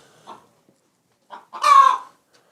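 Free-range chickens on a village homestead in Russia give a few soft, scattered clucks, then one louder, drawn-out squawking call, close by in an otherwise quiet yard.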